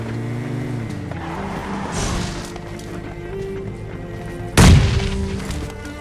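A car in PUBG Lite drives with a steady engine drone that shifts pitch as it speeds up, then a heavy thud of impact near the end.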